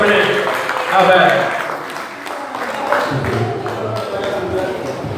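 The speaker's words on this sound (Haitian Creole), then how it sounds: "applaudissement de la part de l'Assemblée" A church congregation at a wedding ceremony breaks into applause, with scattered clapping swelling and fading as a voice talks over it nearby.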